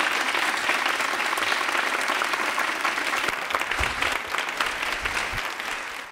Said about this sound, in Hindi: चलिए ताली बजा दीजिए जोरदार